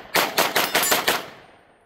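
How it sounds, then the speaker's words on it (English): Rapid string of five shots from a Sig P365 9mm pistol, evenly spaced and sharp, each crack close and loud, followed by a short fading tail with no talk. "So let's shoot it fast, see if it likes to go fast."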